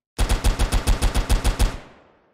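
A rapid burst of about eleven shots from an automatic weapon in a multiplayer first-person shooter game, loud and close, fired in an even rhythm and ending in a short fading tail.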